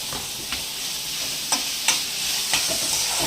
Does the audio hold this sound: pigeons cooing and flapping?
no